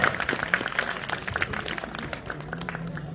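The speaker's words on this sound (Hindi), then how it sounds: "इनके लिए जोरदार तालियों में स्वागत करेंगे।" Crowd at a Shrimad Bhagwat Katha religious gathering claps in welcome, an irregular patter of hands from a modest audience, moderately close, with some background voices and a faint tonal hum underneath.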